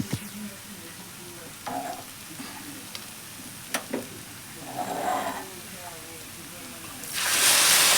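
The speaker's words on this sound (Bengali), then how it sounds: "এবারে জল ঢেলে দেবো।" Water poured into a pan of frying ghugni, a dried-pea masala with onions, bursts into a loud hissing sizzle near the end, after scattered stirring scrapes and faint kitchen clatter.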